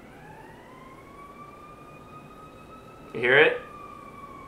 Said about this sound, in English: There's another siren.